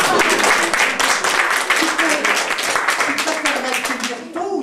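Lively audience clapping at a French stage performance, dense rapid claps that gradually thin out, with a voice speaking over the end.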